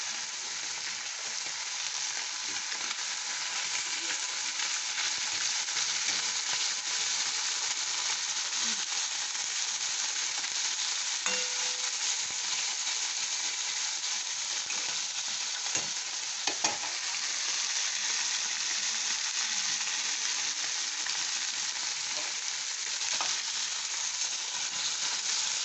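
Tiny kakchi fish fry being fried and stirred in a pan, a steady dense sizzle running throughout with occasional faint scrapes of the spatula, close and continuous.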